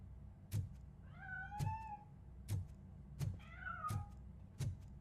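A cat meows in the video game RoboCop: Rogue City, two drawn-out, clear meows standing alone over a low ambient hum, with sharp thuds recurring at steady intervals between them.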